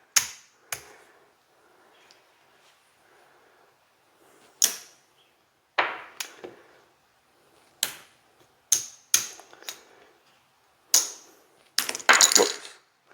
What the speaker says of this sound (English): Knocking chips over.